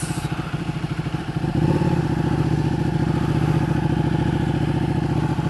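A Ducati 1299 Panigale S motorcycle being ridden, its engine a close, loud, throbbing drone that steps up in pitch and strength partway through as it accelerates, with no talk over it.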